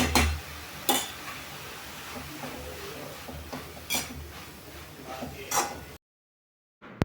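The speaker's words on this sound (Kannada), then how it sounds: "ತುಪ್ಪದಲ್ಲಿ ಈ ರೀತಿ ಪೂರ್ಣ ಕ್ಯಾರೆಟ್ ತುರಿ ಪೂರ್ಣ ಸಾಫ್ಟ್ ಆಗೋ ತನಕ ಈ ರೀತಿ ಫ್ರೈ ಮಾಡಿಕೊಂಡು" Grated carrot frying in ghee while being stirred in a pan, with a few sharp utensil scrapes and clinks over a low, steady sizzle that stops near the end.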